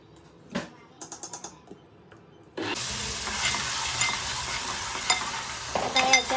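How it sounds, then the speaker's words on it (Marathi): A ground paste of sesame, cumin, ginger, green chili, garlic and coriander drops into hot oil and fries in a loud, steady sizzle after a few soft clinks and stirring taps, with occasional scraping as it is stirred. "वाटलेला मसाला टाकलाय तेलावर फोडणीला. तो थोडासा परतून घ्यायचा."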